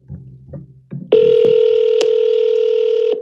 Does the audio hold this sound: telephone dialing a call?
yes